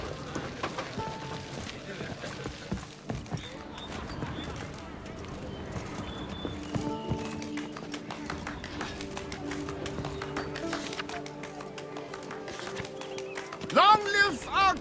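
A horse's hooves clip-clop in The Witcher 3: Wild Hunt, Blood and Wine expansion. The hoofbeats run under game dialogue and music, with a short louder flurry near the end.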